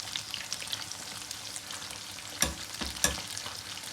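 Chicken pakora frying in oil over low heat, a steady soft sizzle and crackle throughout, with a couple of brief louder pops or clinks near the end.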